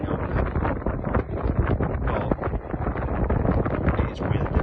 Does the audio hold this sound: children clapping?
no